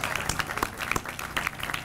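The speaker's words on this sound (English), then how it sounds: "Let's give the mayor a round of applause again." Crowd applause for the mayor at an outdoor community gathering in Detroit, a short burst of scattered, uneven clapping from a modest group, close by and moderately loud throughout.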